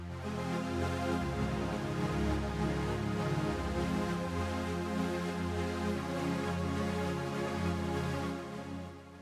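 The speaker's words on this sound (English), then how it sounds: "here's a pop synth string sound." A lush, sustained synth string chord pattern from a Yamaha YC88 stage keyboard plays steadily, with layered harmonic tones and a gentle pulsing rhythm, fairly loud and without talk.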